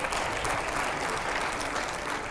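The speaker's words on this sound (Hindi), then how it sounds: "जरा जोरदार तालियां बजाइएगा इसको लेकर" A studio audience applauds in a steady, dense wash of clapping that stays loud and even from start to finish with no voices standing out.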